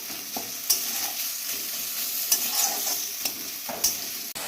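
Chopped tomato and green chillies frying in a pan, a continuous sizzle broken by several sharp scrapes and taps of a spoon as they are stirred.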